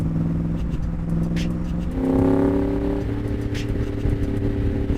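A Factory Five 427 Cobra replica, a Shelby Cobra copy, revs hard under acceleration. The deep V8 roar climbs steadily and loud, swells to a peak midway, then holds a throaty drone.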